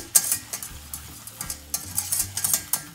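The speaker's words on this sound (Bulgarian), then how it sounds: "И още докато е горещо, вряло маслото, веднага прибавете 30 килитки чесън. Също така копър и разбърките добре." Garlic and dill hit sizzling, browned hot butter and are stirred, bright crackling bursts and quick spoon scrapes up close, loud and busy for a few seconds without speech.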